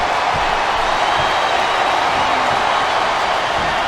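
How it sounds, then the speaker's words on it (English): Steady roar of an arena crowd cheering in the WWE SmackDown vs Raw 2008 wrestling video game, a dense continuous wash of crowd noise throughout with no clear breaks. "One, Listen to the crowd, JR."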